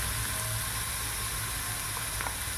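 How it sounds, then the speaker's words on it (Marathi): Vegetable Manchurian balls of cabbage and cornflour sizzle as they fry in hot oil for restaurant-style veg Manchurian, a steady close crackling hiss that runs unbroken throughout with no talking. "छान प्रकारे फ्राय होत आहे."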